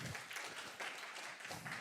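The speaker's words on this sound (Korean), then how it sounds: "여러분 큰 박수로 환영해 주시기 바랍니다." Applause from a conference audience welcoming a speaker to the stage, a steady, fairly quiet wash of many hands clapping with no voices over it.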